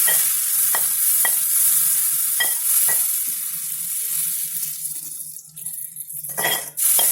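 Toor dal with tomato is stirred into a turmeric tempering in a pan, giving a steady sizzle with scraping spoon strokes and a few sharp clinks against the metal, louder near the end.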